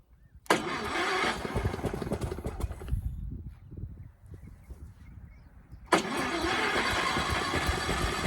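A homemade bed rail engine with a newly fitted fuel tank cranks and catches almost at once, roaring loudly, sags to a rough low idle for a few seconds, then surges back to a loud, steady run.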